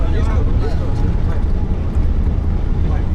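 Crowded bus with no suspension jolting over speed bumps on an unpaved road in Honduras, heavy continuous engine rumble and rattling close by, with voices talking over the din.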